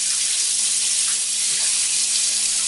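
A sink tap pours hot water in a steady, loud, close hiss that holds evenly throughout, with no voices.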